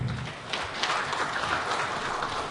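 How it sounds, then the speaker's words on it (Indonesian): Audience applause at a book launch for a cooperative magazine, a steady dense patter of clapping from a crowd filling the whole stretch without pause. "Mari kita berikan tepuk tangan."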